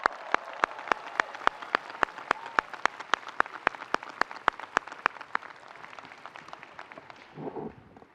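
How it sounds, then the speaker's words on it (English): Applause for a commencement speaker at a Stanford graduation ceremony, heard as a rapid, evenly spaced run of sharp claps close by over a soft background wash, fading out toward the end. "please join me in giving another round of applause for our speaker"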